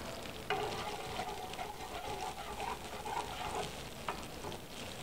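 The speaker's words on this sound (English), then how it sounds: "Okay, so I'm going to let that come to a simmer." Fresh squeezed orange juice heats in a pan, giving a soft continuous sizzle and bubbling with small pops and stirring sounds, fairly quiet and without speech.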